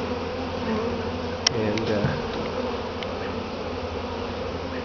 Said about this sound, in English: Now I'm going to have to end the video because the back of the camera is covered in bees.